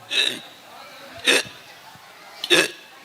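Three sharp hiccups come at roughly even intervals, each a short voiced gulp, close and fairly loud, during a stage performance at a madrasa event.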